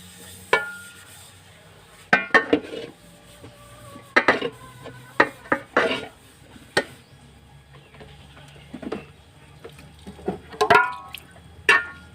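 Dishes, pots and cutlery are washed at home after an evening meal, with scattered sharp clinks and clatters of utensils and crockery at irregular intervals over a soft, steady background.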